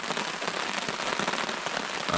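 Steady rain patters densely on a surface nearby, a continuous hiss of countless drops with no voices.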